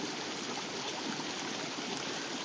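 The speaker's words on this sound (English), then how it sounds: "this creek kind of runs through a wooded area" A creek runs through a wooded area at Cache Creek, Colorado, giving a steady, close rush and trickle of water that holds even throughout with no voices.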